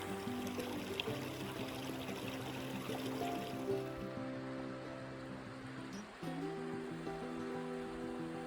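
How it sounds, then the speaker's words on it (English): Glacier meltwater stream rushing in a mountain setting, a faint continuous watery roar with some steady tonal hum running through it. "So this water is coming from glacier from upstream."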